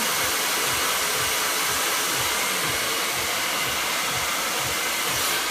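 A hair dryer runs continuously while hair is blow dried into a big, bouncy style, a close, steady roar with a regular swishing pulse as the nozzle sweeps back and forth.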